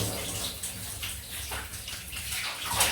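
Water runs from a tap while a freshly shaved face is rinsed, a steady close splashing and gurgling stream with irregular splashes from cupped hands, fairly soft.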